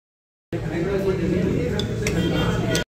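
A busy restaurant kitchen in Darjeeling sits just behind the table, with dishes and cutlery clinking and clattering under a steady murmur of talk and diners' chatter.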